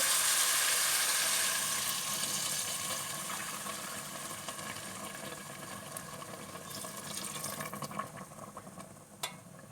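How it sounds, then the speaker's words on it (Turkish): Hot water pours steadily into an Arçelik Gurme Şef electric pot over vermicelli rice, a continuous rushing splash that gradually softens, with a faint clink near the end. "İki buçuk su bardağı su ekliyorum sıcak su üzerine."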